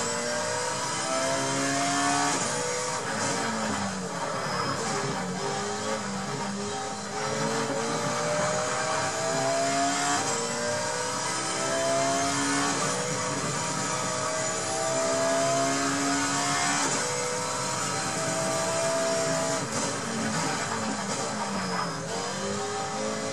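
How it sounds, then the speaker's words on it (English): Race car engine in GTR Evolution, a 2008 racing game, droning and revving steadily throughout with repeated rising gear sweeps, loud and continuous. "That's GTR Evolution."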